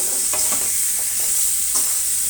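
Cut water apple frying in a pan over low heat, stirred by hand: a continuous close sizzle with soft scraping strokes at an irregular pace.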